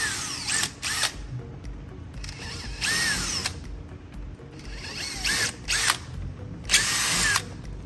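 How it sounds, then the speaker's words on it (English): A power drill with a number 10 bit whirs in several short bursts separated by pauses, close up, each spin rising and winding down, drilling holes for a dash mount in a Toyota Tacoma. "And then we're gonna drill all these holes."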